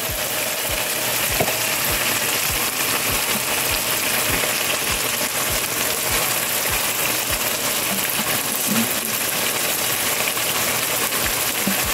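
Onion, garlic and garam masala frying in a pan give a steady, even sizzle with a few faint scrapes and clicks. The sizzle carries on throughout with no talking.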